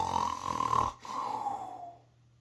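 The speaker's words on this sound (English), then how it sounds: "In another room, a man was taking a nap and snoring." A man snores during a nap, with one long rasping snore, a brief pause, then a second drawn-out snore that fades away, close and fairly loud.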